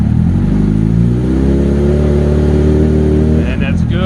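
A Yamaha YZF R1 motorcycle engine revs in first gear between about 2,000 and 4,000 RPM, a loud, close, sustained roar with a brief dip near the end.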